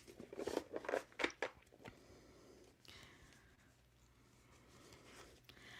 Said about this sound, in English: shuffling for you, Dylan